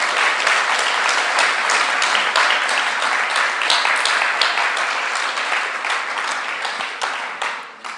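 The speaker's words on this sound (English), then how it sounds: "If Tollgate were listening, they deserve a real round of applause" An audience gives a round of applause for a children's school banner, dense clapping from many hands that holds steady and full throughout, then tapers near the end.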